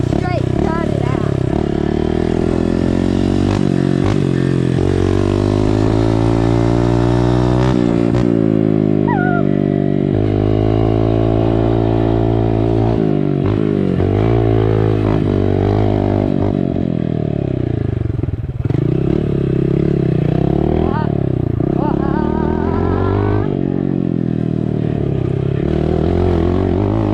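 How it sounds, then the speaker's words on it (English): Dirt bike with a straight, gutted exhaust and no silencer insert, revving loudly and continuously while ridden around a backyard track, the engine note rising and falling throughout, with no speech over it. "Isn't it crazy that this exhaust doesn't come with like the silencing cord thing for it?"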